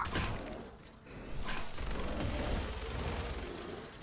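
Gunfire in the Fallout 4 video game: rapid, overlapping shots in a sustained fusillade, fairly quiet overall, with a brief lull early on before the firing resumes steadily.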